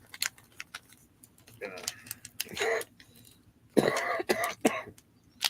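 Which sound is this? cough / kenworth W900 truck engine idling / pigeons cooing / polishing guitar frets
cough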